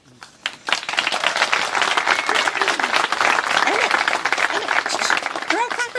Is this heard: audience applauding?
yes